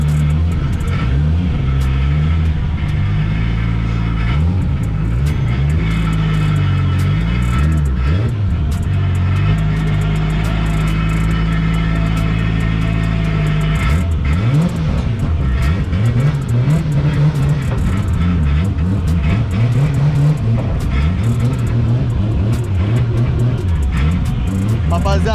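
A modified Nissan 350Z with roughly 500 hp pulls out of a workshop onto the street, its engine rumbling and revving in a steady low drone with swells of throttle, heard from inside the car.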